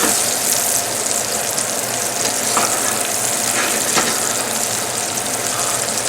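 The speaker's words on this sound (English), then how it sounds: "We're going to sear this fish and not overcook it." A salmon fillet sears in a hot pan over a high flame, giving a loud, dense, unbroken sizzle with faint crackles throughout, close and without talk.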